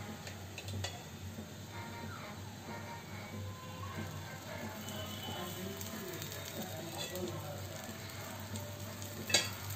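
Ragi dosa fries in oil in a pan, a steady soft sizzle running under faint stirring and scraping clicks, close and quiet with a small clatter at the end.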